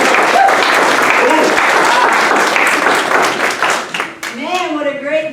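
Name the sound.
applause for graduating airmen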